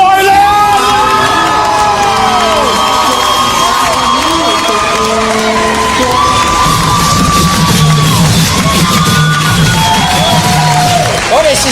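A live comedy-show audience cheers, whoops and applauds loudly and without a break to welcome comedian Matthew Boylan onstage, a dense, sustained crowd roar with shouts rising above it.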